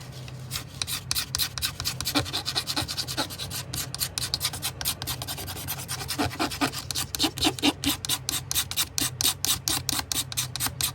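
A chipped bone knife handle is scraped in a quick series of rasping, filing strokes, close and fairly quiet, in an irregular rhythm that grows denser toward the end.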